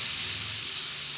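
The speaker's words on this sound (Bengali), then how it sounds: "এবার ভালো করে আরও কিছুক্ষণ ভেজে নেব।" Kochu and lati vegetables fry with spices in a pan with a lemon juice splash, making a steady, close, bright sizzle and hiss throughout with no voices.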